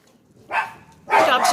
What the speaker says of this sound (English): Dogs are going to bark.